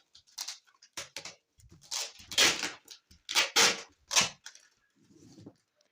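Parcel being wrapped tightly on all sides with adhesive packing tape: a series of loud, close tearing and ripping strips in bursts, with short pauses between pulls.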